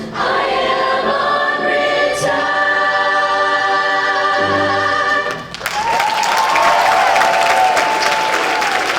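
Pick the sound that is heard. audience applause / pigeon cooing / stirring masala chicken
audience applause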